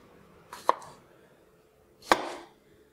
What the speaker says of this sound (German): Und dann haben wir ja hier noch diese tollen kleinen Kartoffelchen. Die werden einfach nur halbiert.